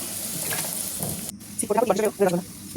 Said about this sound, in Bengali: দেখুন কপিটা ভালো করে ভাজা হয়ে গেছে।